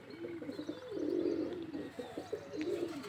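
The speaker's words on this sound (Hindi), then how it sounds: "ये वाला कबूतर दिखाता हूँ आपको" Pigeons nearby in a sunny, shaded yard give repeated low, throaty coos in soft rolling bursts, close and fairly clear over a quiet background.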